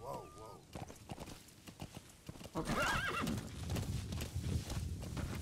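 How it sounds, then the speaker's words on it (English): A horse in Metal Gear Solid V: The Phantom Pain gives a sharp neigh, then gallops closer with loud, rapid hoofbeats, while someone speaks briefly over the game sounds. "You can call your horse to you."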